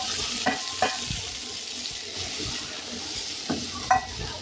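Small onions sizzle steadily in a frying pan, a constant hiss broken by a few sharp clinks and scrapes of a stirring utensil against the pan.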